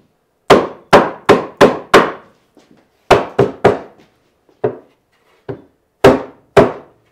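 A hammer pounds on wood while building an under-table-saw storage cabinet in a woodworking shop: a quick run of five sharp, loud blows, then bursts of three and scattered single strikes, each ringing briefly in a quiet room.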